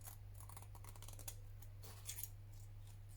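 Scissors snip paper greenery for a handmade postcard in a quick run of several soft, close cuts, then a few more a moment later, faint against a low background hum.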